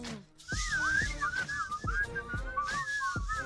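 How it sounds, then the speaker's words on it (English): Someone whistles a wavering, looping tune up close at a radio morning show, with rhythmic percussive hits or claps beating steadily underneath. "Whistle for me."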